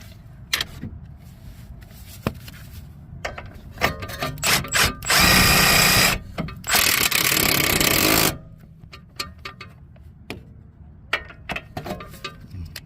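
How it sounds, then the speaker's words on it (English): A power tool tightens a castle nut onto a Toyota Corolla CV axle in two long, loud whirring bursts close by, with scattered clicks and clanks of handling before and after. "put the castle nut on it, and tighten it down."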